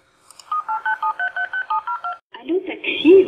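A telephone keypad dials a taxi dispatch line with about ten quick, evenly spaced beeping tones, followed by a ringing or connection tone.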